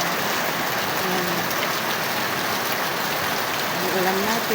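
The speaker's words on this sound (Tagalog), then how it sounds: "magdamag siyang umuulan" Heavy rain that has fallen all night keeps pattering steadily and fairly loudly on surfaces outdoors, a constant close wash of drops with a faint voice under it.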